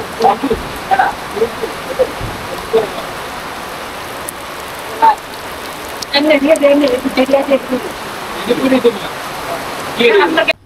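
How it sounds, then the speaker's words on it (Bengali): Steady monsoon rain patters on a surface in a rose garden village in Bangladesh, a continuous hiss of drops, with brief voices speaking now and then over it. "দেখেন বৃষ্টিটা সেই সুন্দর, এই ফুলের সাথে বৃষ্টির একটা কম্বিনেশন অসাধারণ।"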